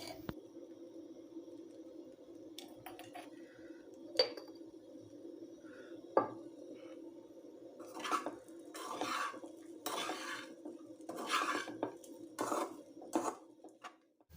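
A spoon stirs leftover idli upma with salt in a pan, scraping and clinking against the metal in close, quiet strokes that turn into quicker bursts of stirring toward the end, over a low steady hum.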